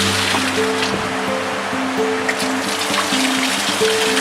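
Water rushes steadily past a turbine at the foot of a waterfall, a loud continuous wash with a faint mechanical hum running underneath.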